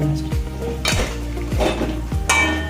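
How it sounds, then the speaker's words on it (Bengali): Paneer and fried vegetables being stirred together in a pan, a spoon scraping and clanking against the metal in a steady rhythm of about five strokes, close and clear with no talk. "এবার একটু ভালো করে মিশিয়ে নেব"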